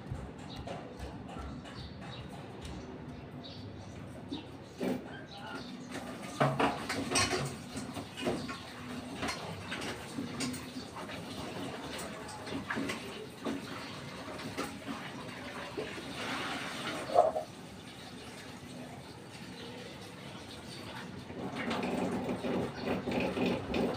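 Fresh cassava roots are washed by hand in water, giving a steady run of splashing, rubbing and clattering that is moderately loud and continuous, with occasional louder sloshes.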